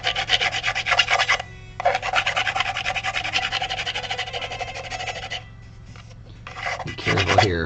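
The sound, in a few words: filing burrs off a resin model kit part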